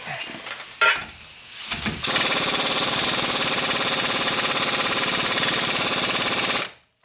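Heavy impact gun with a 32mm socket working on a Nissan Rogue wheel hub during a ball joint job, a couple of short bursts followed by one long, loud, continuous hammering rattle that stops abruptly.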